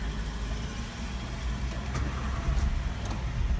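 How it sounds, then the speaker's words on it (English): A 1957 car's engine runs in a low, steady rumble at idle, moderately quiet and close, with no clear starting crank heard. "I will turn the car on."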